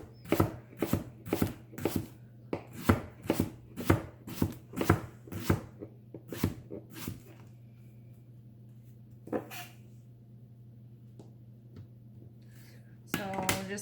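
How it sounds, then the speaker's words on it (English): A knife cuts leeks into pieces on a cutting board for a creamy dairy-free white chicken soup, a quick run of sharp, evenly spaced chops, then a pause and a few scattered taps, close up and quiet. "think I'm just gonna cut this into pieces and then cut them in half"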